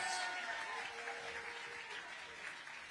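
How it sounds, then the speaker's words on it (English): An audience at a Democratic political event applauds and cheers steadily, a dense wash of clapping that fades slightly toward the end, heard from within the crowd at moderate loudness. "you've been doing a lot of clapping and a lot of cheering"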